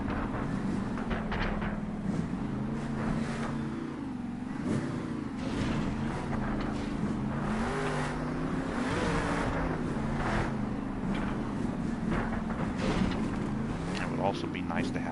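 A monster truck engine in the video game Monster Jam Steel Titans drones and revs continuously, with someone talking over it the whole time.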